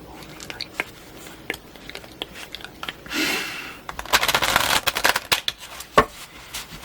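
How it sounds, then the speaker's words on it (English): Large Tarot of the Holy Light cards shuffled sideways make close, soft riffling and rapid papery flutters in bursts, with scattered taps and crinkles between them in a quiet, intimate setting. "being quite large, I am shuffling them sideways"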